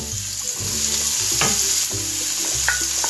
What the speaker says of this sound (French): Ensuite, on va ajouter les aubergines qu'on a bien essorées